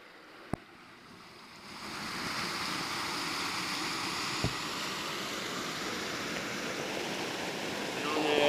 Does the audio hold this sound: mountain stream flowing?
yes